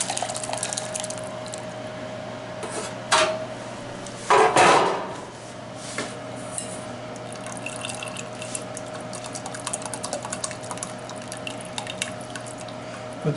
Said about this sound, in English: we're going to strain the juices into a saucepan